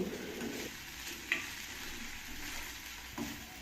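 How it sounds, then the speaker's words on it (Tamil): Ginger garlic paste sautéing in oil on a low flame for a mushroom gravy, giving a soft, steady sizzle with a couple of faint utensil taps. "இப்படி ஆட் பண்ணி நல்லா எண்ணெயில் நல்லா வதங்க விடணும்"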